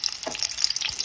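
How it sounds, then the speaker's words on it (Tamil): Garlic hits hot oil in a pan, producing a short burst of dense, bright crackling sizzle with faint spatters and no talking. "எண்ணெய் காஞ்சாச்சு பூண்டு"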